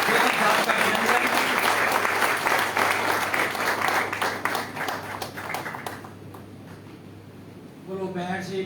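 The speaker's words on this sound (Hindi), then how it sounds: "एक बार जोरदार ताली बजा के आदरणीय गौतम साहब का अभिनंदन" Loud applause from a large audience at a Valmiki Jayanti gathering, a thick continuous roar of clapping that gradually thins and fades, followed by a voice starting to speak.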